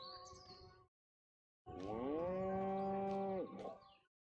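A cow in the video game Destroy All Humans gives two drawn-out moos, a short one then a longer, rising one, clear and alone against silence.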